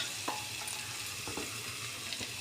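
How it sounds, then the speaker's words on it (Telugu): Onions and green chillies frying in hot oil in a pan give a steady, close sizzle, with a few brief stirring scrapes on top and no voices. "ముందుగా స్టవ్ మీద ప్యాన్ పెట్టి కొంచెం వేడయ్యాక ఆయిల్ పోసి ఉల్లిగడ్డ, పచ్చిమిర్చి వేసుకున్నాను"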